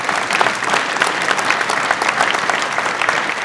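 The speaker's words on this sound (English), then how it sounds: "a round of applause for that, please" A studio audience gives a short, dense round of applause, steady and close throughout.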